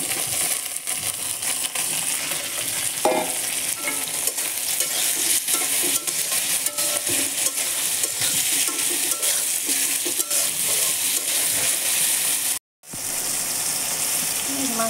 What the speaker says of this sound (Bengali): এখন আমি দিয়ে দেব যে মেখে রাখা মাছ।